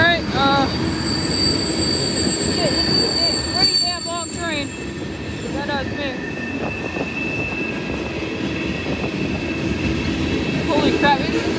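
Norfolk Southern manifest freight train about 10,000 feet long, led by a yellow SD30 ACC locomotive, rolling past at Creighton, Pennsylvania, with repeated high-pitched wheel squeals over a steady rumble of railcars.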